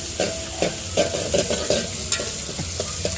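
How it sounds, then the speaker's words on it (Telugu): Ginger garlic paste frying in a pan while being stirred, a continuous close sizzle with frequent scraping stirs in an irregular rhythm, heard alone without voices. "అల్లం వెల్లుల్లి పేస్ట్ చేసుకొని పచ్చివాసన పోయేదాకా ఒక రెండు నిమిషాలు ఫ్రై చేసేసుకోవాలి"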